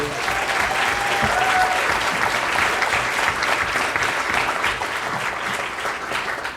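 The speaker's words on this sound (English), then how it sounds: "How about a round of applause for them today?" A crowd at a county commission primary candidate forum applauds the candidates with a full, sustained round of clapping that stays strong throughout and fades a little toward the end.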